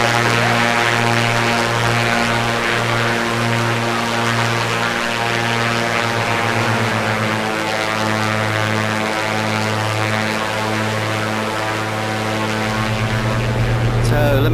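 A Piper Comanche 250 propeller aircraft engine in the A2A flight simulator drones steadily and loudly throughout, a continuous even hum with only slight shifts in tone.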